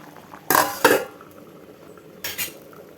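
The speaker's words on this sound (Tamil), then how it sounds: "இது அப்படியே எடுத்து கிளறி விட்டுக்கோங்க" A spoon clanks against the pot while kovakkai kulambu, an ivy gourd curry, is stirred: two quick metallic scrapes close together, a pause, then one more short clatter.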